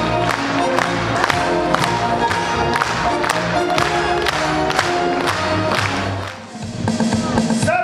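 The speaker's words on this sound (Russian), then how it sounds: "Аплодисменты!" At a festive concert, an audience applauds and cheers loudly, with dense clapping, shouts and whoops over music, the crowd noise sustained before briefly dipping and then swelling again.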